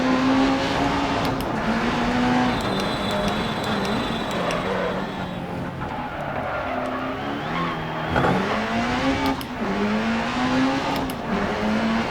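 A rally car in the video game DiRT Rally drives with a continuous engine drone that rises and falls through gear changes, alone and without any talking over it.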